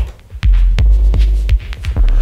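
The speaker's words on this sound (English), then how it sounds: "With the spring reverb coming a little later, and it creates more stuff" A minimal electronic groove of deep kick drum and bass, with echo and a spring reverb tail arriving slightly late; loud, thudding pulses repeat in an uneven rhythm, each smeared by short reverberant decay.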